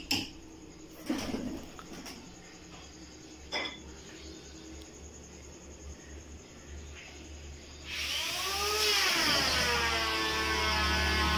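Pigeons kept in cages inside a workshop coo softly amid scattered metallic clatters and knocks, then a loud rising whir swells up and holds through the final seconds.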